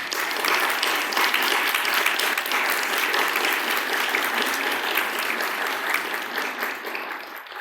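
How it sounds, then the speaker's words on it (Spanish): Warm, sustained applause from a meeting room of attendees gathered for a session on violence against women in the city, steady and fairly close throughout. "No sé si se valga un aplauso, pero muchas gracias."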